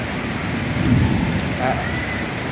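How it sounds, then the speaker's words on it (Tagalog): Heavy night rain in Manila pours steadily in a dense, constant hiss, with a low rumble swelling briefly beneath it. "Malakas ng ulan ngayong gabi nito."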